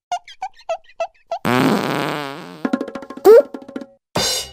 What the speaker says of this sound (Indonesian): Ini adalah jurus kentut.